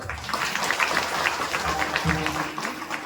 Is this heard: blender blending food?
no